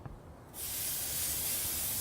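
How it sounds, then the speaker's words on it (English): Burgers hitting a hot grill break into a sudden loud, broad sizzle after a quiet half-second, then hiss steadily and evenly up close. "And that's exactly what we're looking for, that sizzle."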